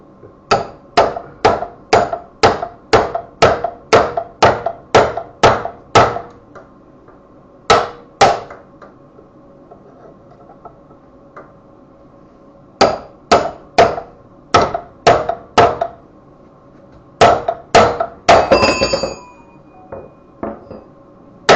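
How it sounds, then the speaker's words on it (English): A hammer taps a special tool to split a wheel bearing on a 1992 Honda Fourtrax 300 4x4 ATV, sharp metallic strikes in quick regular runs and short bursts with pauses between, close and loud. "You put it in there like that and tap right there with a hammer"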